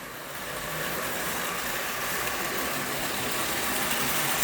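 A kit-bashed O-gauge model train with an O-gauge motor circles its track, giving a steady whirring rumble that holds at a moderately loud, even level throughout.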